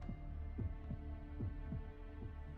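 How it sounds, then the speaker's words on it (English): A castle in the video game Fate/Grand Order gives off a heartbeat-like throb, low paired thumps pulsing in a slow steady rhythm over a constant droning hum, with no talking. "Is it just me, or does it sound like the castle has a heartbeat?"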